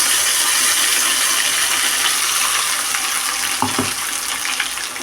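Tomato and onion puree being stirred into a paneer curry in a pan, a steady loud sizzle throughout with a few sharp clinks of the spoon against the pan near the end, close, no talking.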